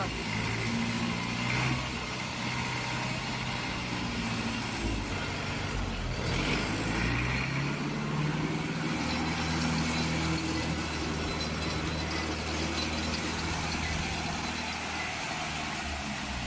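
A Jinma 404 tractor's diesel engine runs steadily with a rough low rumble, a continuous drone with shifting tones, no voices heard.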